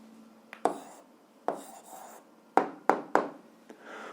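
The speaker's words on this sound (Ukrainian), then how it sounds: "пишемо відповідь" A pen or pencil writes an answer on paper for an 8th-grade algebra exercise, making several distinct scratchy strokes and taps in an irregular rhythm, close and fairly quiet.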